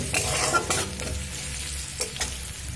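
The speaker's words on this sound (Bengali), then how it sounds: "আদা আর লঙ্কাটা একটু সামান্য নাড়াচাড়া করে নেব" Ginger and green chilli frying in oil in a pan, a dense continuous sizzle with light stirring scrapes on top, close and fairly loud, with no voices.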